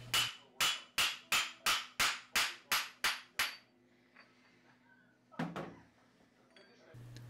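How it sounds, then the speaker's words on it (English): A hammer strikes a brass slug about nine times in a fast, even rhythm to knock out the core left by trepanning, each blow a sharp, ringing metallic hit, followed by silence and a couple of duller knocks. "just trepanning in and hammering out the core just to save some material"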